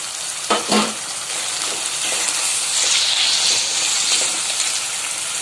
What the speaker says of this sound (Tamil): இப்போது இந்த ரெண்டு தக்காளி நம்ம கட் பண்ணி வச்சுருக்கோம் அதுவும் சேர்த்துக்கலாம்